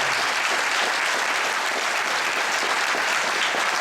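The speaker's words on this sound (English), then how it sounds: "I want to give another round of applause to the Menchistas." Audience at a statewide conference on police brutality in Oxnard applauding a community group, a continuous, even wash of clapping filling the room with no talk.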